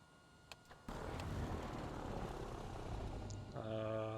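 Simulated propeller aircraft engine in X-Plane, droning loudly and steadily as the throttle comes up, with a brief quieter start followed by a sustained broadband roar and rising engine tones near the end.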